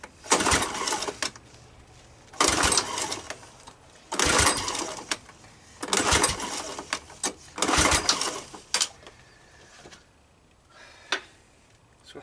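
Worn-out Honda ATC200M engine cranking and failing to catch, with repeated loud churning bursts of a couple of seconds each separated by short pauses, the attempts fading into shorter weak turns toward the end.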